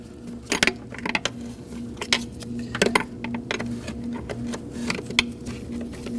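A 10mm wrench loosening the starter bolts on a 2011-2016 Kia Optima: scattered sharp metallic clicks and taps at irregular moments over a faint background, with no talking.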